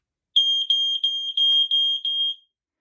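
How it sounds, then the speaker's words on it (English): A home smoke alarm under test gives a loud, shrill series of about seven close, evenly spaced beeps that run together into a steady piercing tone before stopping. "Now my own smoke alarm."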